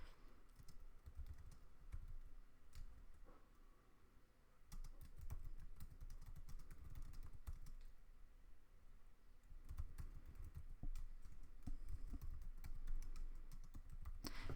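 Steady typing on a computer keyboard, close and fairly quiet, with rapid irregular key clicks running throughout and no voice.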